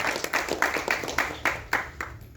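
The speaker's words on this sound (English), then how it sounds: "Round of applause to Suren for being our inspiration." Audience at a film trailer launch event applauding, a rhythmic run of claps in a fairly even beat, moderately faint and somewhat distant in the hall.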